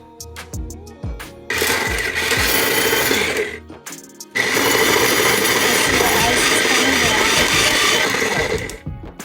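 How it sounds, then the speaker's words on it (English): An electric ice shaver grinds a block of ice for snow cones, a loud continuous whirring crunch that starts briefly, pauses, then runs steadily for several seconds. "now I'm going to press this button so I can begin to shave the ice"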